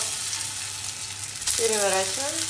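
Grated potato pancakes frying in oil in a pan, a loud, close continuous sizzle, with a brief voice-like tone near the end.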